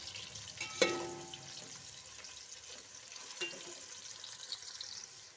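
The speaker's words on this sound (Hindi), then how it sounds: "अब हम इसे अच्छे से फ्राई करेंगे।" Onion frying in hot oil in a pan for chicken pulao, a steady soft sizzle and crackle with a sharper clink near the start, close and fairly quiet throughout.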